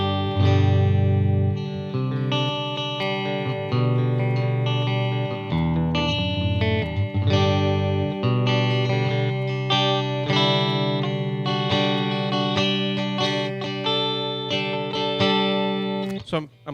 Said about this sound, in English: So I'm playing a Fender Jazzmaster with P90 pickups, just an old made in Japan model